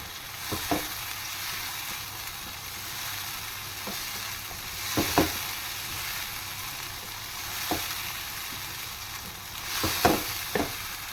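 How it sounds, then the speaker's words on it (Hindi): Chicken with ginger garlic paste fries in a pan with a steady, even sizzle, broken every few seconds by the clink and scrape of a spoon stirring. "अब इसमें मैं अदरक लहसुन का पेस्ट डाल दूँगी अपना, उसको थोड़ा सा फ्राई करूँगी"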